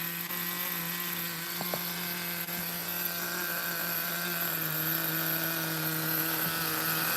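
An OS nitro engine idles in a Traxxas T-Maxx RC truck fitted with a full cage, giving a steady, loud, continuous buzzing drone with a high whine throughout.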